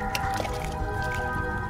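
Fermenting kvass of ground malted rye, water and yeast culture bubbling steadily, a dense, wet squishing and dripping texture of close-up bubbles popping throughout, with no talk.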